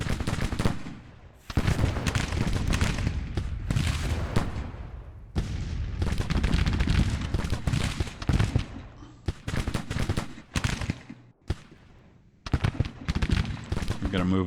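Volleys of musket and cannon fire crash repeatedly in Grand Tactician: The Civil War battle, loud bursts separated by short gaps, with a voice talking over parts of it.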